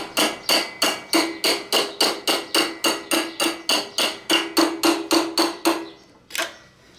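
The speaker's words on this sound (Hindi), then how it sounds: "यहाँ एक स्क्रू ड्राइवर रखिए और इसको थोड़ा थोड़ा यहाँ मारिए तो इससे ये निकल आती है।" A screwdriver is struck over and over to work loose a part on a Yamaha YB100 motorcycle, making about twenty evenly spaced sharp metallic taps, close and loud, followed by a short pause and one final knock.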